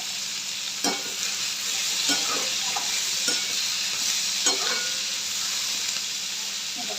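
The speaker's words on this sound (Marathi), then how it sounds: "व्यवस्थित दोन मिनिटांना हाय फ्लेमवरच आपल्याला हे परतून घ्यायचं आहे" Soaked cashews sauté in oil over a high flame, giving a soft, steady sizzle with occasional scraping taps from stirring in the pan, fairly quiet and close.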